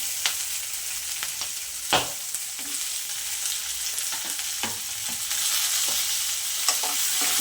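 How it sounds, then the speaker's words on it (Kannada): Tomato and coriander leaves frying in oil for a village-style hyacinth bean dal curry, a steady close sizzle with occasional stirring scrapes and clinks, no voices. "ಇವೆಲ್ಲ ಚೆನ್ನಾಗಿ ಫ್ರೈ ಆಗಬೇಕು ಕೊತ್ತಂಬರಿ ಸೇರಿಸ್ಕೊತಾ ಇದ್ದೀನಿ"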